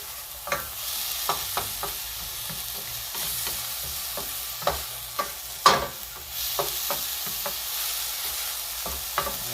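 Frozen peas fry in a pan, giving a steady sizzle close up, broken by scraping and clicking stir sounds at irregular intervals.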